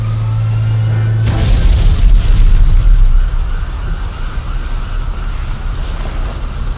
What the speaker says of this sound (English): Bruce and Drake got Harvey out just as the garage exploded.